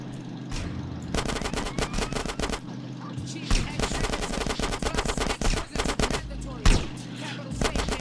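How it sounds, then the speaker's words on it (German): Gunfire rattles in GTA San Andreas as a combine harvester is shot at, with loud, close bursts of rapid automatic fire and single shots in uneven volleys that fill the scene, plus some game noise underneath. "Wie, der schießt mein Mähdrescher kaputt."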